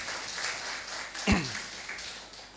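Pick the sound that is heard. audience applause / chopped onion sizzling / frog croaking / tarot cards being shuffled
audience applause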